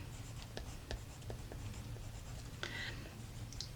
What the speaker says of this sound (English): With my green, I'm going to write in capital letters